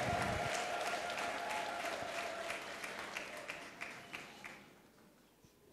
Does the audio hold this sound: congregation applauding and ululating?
yes